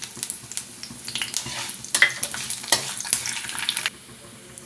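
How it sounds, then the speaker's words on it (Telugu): Mustard seeds and cumin dry-roasting in a pan for a curry leaf chutney, a crackling sizzle with busy scraping stirs that grow louder midway, then stop abruptly into a quiet tail. "ఒక స్పూన్ ఆవాలు అలాగే ఒక స్పూన్ జీలకర్ర వేసి వేయించుకుందాం"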